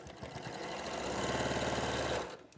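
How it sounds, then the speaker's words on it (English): A sewing machine runs in one continuous burst of about two seconds, stitching diagonally across fabric squares, a steady close motor whir with rapid needle rhythm that stops abruptly. "you just sew across, and you want to get that diamond shape in the middle"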